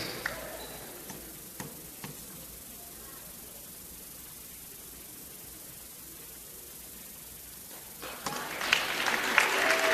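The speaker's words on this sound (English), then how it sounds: "one more round of applause for Brian Gomez." A few scattered claps in a quiet arena swell into a rising burst of crowd applause near the end, during a senior recognition ceremony at a men's college basketball game.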